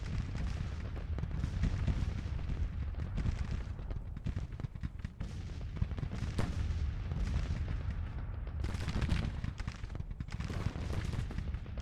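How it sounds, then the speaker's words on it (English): Artillery guns firing in a Civil War strategy video game, a continuous barrage of booming cannon blasts and rolling musket volleys, dense and loud throughout with brief lulls, no talking. "What on earth are those guns doing?"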